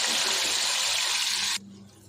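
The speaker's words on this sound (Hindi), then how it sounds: "थोड़ा सा पानी में डाल देती हूँ, मसाला हमारा लगा हुआ था।" Water is poured in a loud, steady broadband gush into chicken masala cooking in a pan, then stops abruptly, leaving a low background hum and quiet room noise.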